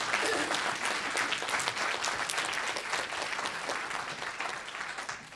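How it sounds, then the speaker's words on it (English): Sustained applause from a conference audience at a Learning Disability Wales annual conference in South Wales, dense steady clapping that holds level throughout and eases slightly toward the end. "Round of applause for that."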